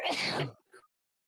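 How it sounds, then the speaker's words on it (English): A single sharp sneeze bursts out close and loud, followed by a brief faint breathy sound, then silence. "I sneeze."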